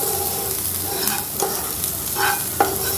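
Vermicelli upma frying in a pan while salt and turmeric are stirred in, with a steady sizzle beneath several distinct scraping strokes of the spoon against the pan.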